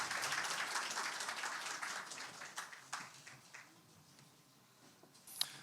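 Audience clapping at a Korean radiation-industry forum and awards presentation, a dense burst that thins and fades over several seconds, with a lone sharp clap near the end.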